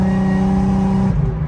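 An Infiniti G37 running a tune on E85, with headers and a fixed exhaust leak, holds a close, steady, droning engine and exhaust note that shifts slightly near the end.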